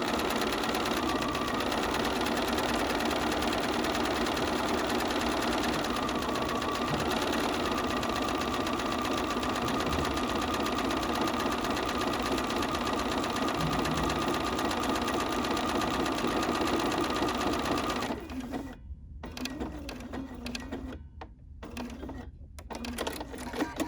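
A sewing machine running a decorative stitch over fabric for a postcard, with a loud, steady mechanical whir close by for most of the time, then stopping and starting in short bursts near the end.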